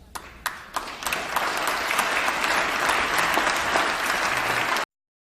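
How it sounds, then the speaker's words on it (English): Crowd applause from a recorded political speech about forest fires and illegal grows, a dense steady ovation rising after a few early claps and then cutting off abruptly. "And applause for that."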